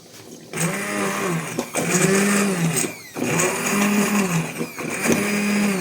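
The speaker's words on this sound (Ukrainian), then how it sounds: "Тепер ми беремо блендера погружного." An immersion blender whirs in bursts, its motor pitch dipping and rising as it churns thick pumpkin jam, with brief pauses between runs.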